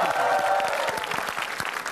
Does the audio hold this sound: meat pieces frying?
no